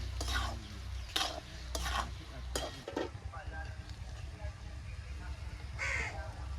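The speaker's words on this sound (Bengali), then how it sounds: "স্বাদ ভালো রাখার জন্য দিয়ে দেবো চিনি ভালো করে একটু নেড়ে ফেড়ে নামিয়ে দেবো" Bottle gourd and shrimp curry stirred in a pan after sugar is added: soft scraping and a light sizzle up close, with crows cawing several times nearby.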